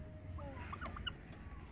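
Large turkey hens on a small farm give a few soft, brief clucks and chirps over a quiet low background hum, faint and somewhat distant.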